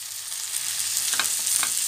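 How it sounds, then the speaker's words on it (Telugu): A cup of cooked rice goes into a hot pan with tomato and paneer bhurji for fried rice, giving a steady, close sizzle with a few soft stirring scrapes and clinks toward the end. "ఇక్కడ 1 కప్ రైస్ యాడ్ చేస్తున్నాను."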